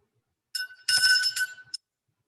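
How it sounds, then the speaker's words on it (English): A ritual bell rings with a bright metallic tone, struck a few times in quick succession within about a second and then fading out, isolated in near silence. "And I'll just begin with the ringing of the bell."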